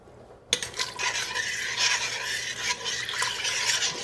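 A spoon stirs tomato stock in a pot, starting with a sharp clink and then a continuous wet swishing and scraping close by with faint bubbling. No one speaks.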